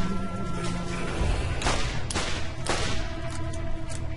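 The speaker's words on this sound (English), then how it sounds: "Just keep jumping and shooting." Gunfire in the shooter video game Borderlands cracks out as several sharp shots over a dense, busy game soundscape, with no voices.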